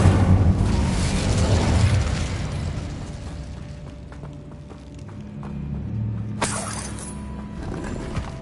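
The Incendio fire spell going off with a loud whooshing burst that fades into a crackling rumble, followed later by a brief bright shimmering flare.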